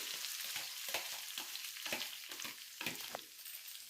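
Onion, mint, coriander, cinnamon, cloves, cashews and cardamom frying in ghee in a kadai, a steady soft sizzle broken by light irregular stirring scrapes, fairly quiet and close, with no voices.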